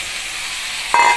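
Steady, loud sizzle of shrimp frying in a pan, with a sharper burst near the end as chopped bottle gourd (upo) goes in for a Filipino shrimp vegetable soup.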